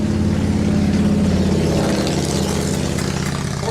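A small carbureted engine idles steadily and close after a carburetor adjustment, a continuous loud rumble with a slight unevenness and no talk.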